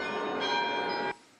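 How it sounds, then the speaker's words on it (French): Carillon bells ring from a market-town belfry in Arras, a steady cluster of bright, sustained chimes over the crowd's low murmur, then cutting off abruptly near the end. "le carillon du beffroi s'anime et enveloppe d'un son cristallin le"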